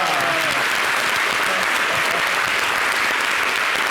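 Crowd applause at a televised concert appearance by a music group, a dense continuous wash of clapping that fills the whole stretch at steady loudness.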